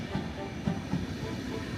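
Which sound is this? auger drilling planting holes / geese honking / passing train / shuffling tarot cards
passing train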